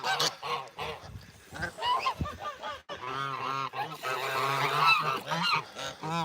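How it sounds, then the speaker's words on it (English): Geese at an animal sanctuary honk repeatedly and loudly from close range, their calls overlapping in a noisy, continuous chorus that grows busier toward the end. "I hear you, gooses."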